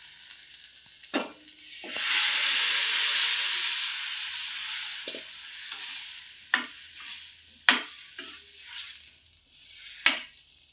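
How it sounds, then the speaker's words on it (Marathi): Chickpeas tipped into masala frying in oil, then stirred: a loud surge of sizzling that swells and slowly settles, punctuated by a few sharp spoon scrapes and clacks against the pan, with no talking. "आता याला छान तेल सुटलेलं आहे, तर आपण ह्यात आता छोले टाकूया"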